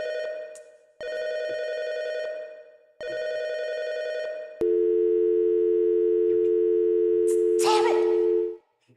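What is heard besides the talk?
telephone busy signal from a video game (FNAF fangame)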